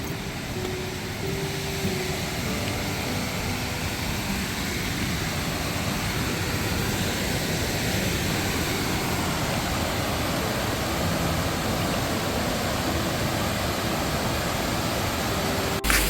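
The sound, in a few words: waterfall at Bheemdwari on Shrikhand Yatra trek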